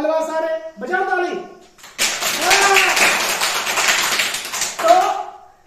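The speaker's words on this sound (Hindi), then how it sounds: "बजाओ ताली" Children clap their hands during an Urdu writing lesson, a dense burst of overlapping claps lasting a few seconds, following and then broken by the teacher's voice.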